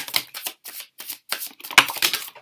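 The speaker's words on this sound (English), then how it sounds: "Let's get shuffling." Tarot cards being shuffled during an 8-card reading, giving a series of crisp riffling bursts in quick succession with short pauses between them, close and fairly loud, with no talk.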